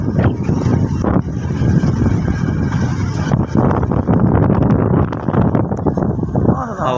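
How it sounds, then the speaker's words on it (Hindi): Strong wind roars steadily against the microphone throughout beside the flooded Chenab River, with someone talking over the gusting rumble. "वो तेज़ हवा जो है ना चल रही है इस साइड पे"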